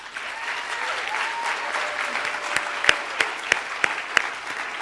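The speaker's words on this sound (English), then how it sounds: "Give yourselves a round of applause." Graduates at a graduation ceremony clap together in a dense, steady burst of applause, with a handful of sharper individual claps popping out near the end.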